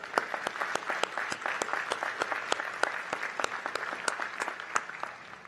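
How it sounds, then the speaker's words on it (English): An audience at a university commencement ceremony claps in a steady, moderate round of applause, with individual claps standing out, and no speech over it. "Let's give her a round of applause."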